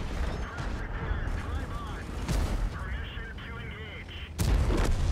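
Tank cannons fire in World of Tanks, several sharp booming blasts over rumbling battle noise, one loud shot near the end, with someone talking throughout.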